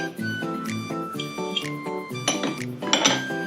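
Cast iron skillet handled on a stovetop while cooking sourdough pancakes, giving close, ringing metallic clanks and clinks in an uneven series, with a brighter cluster of knocks near the end.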